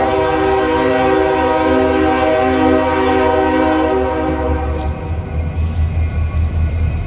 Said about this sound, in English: That train is so loud.